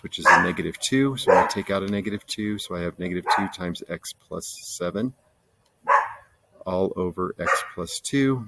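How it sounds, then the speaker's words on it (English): Dogs bark in the background while someone talks steadily through an algebra lesson, their barks mostly buried under his voice. "sorry about the dogs"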